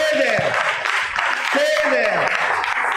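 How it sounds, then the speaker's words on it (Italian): A church congregation applauds for the Lord during a Sunday service, steady dense clapping from many hands that fills the room, with a voice speaking over it. "Facciamo un applauso al Signore."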